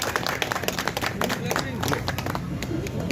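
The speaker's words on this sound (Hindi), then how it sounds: "सभी लोग ताली बजा दें।" People clapping at a welcome reception for the Hathras MP at a residence, scattered uneven claps close by, mixed with crowd noise and voices talking.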